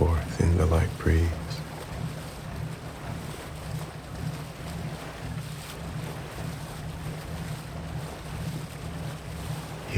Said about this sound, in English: you're content to remain aboard this steamboat